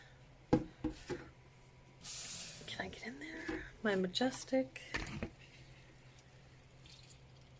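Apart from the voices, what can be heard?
watering plants in an Ikea greenhouse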